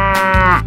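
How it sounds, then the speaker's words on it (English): Cartoon cow gives a single drawn-out moo, loud and close, lasting under a second with a rich harmonic tone that bends slightly in pitch, standing alone without talk. "Cow."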